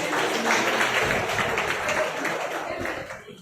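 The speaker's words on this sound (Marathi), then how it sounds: "एकदा जोरदार टाळ्या व्हायला पाहिजे" An audience at a Marathi public gathering applauding, dense overlapping clapping from a crowd that holds steady then thins and fades toward the end, heard from a moderate distance.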